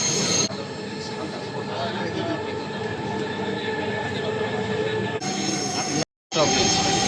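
A crowded metro rail train runs through Bangladesh toward Uttara North, with a steady, loud rolling rumble and rail noise throughout and a brief dropout near the end.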